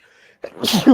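A man sneezes once, close and loud: a short intake of breath and then a sharp, explosive burst lasting about half a second, during a podcast recording.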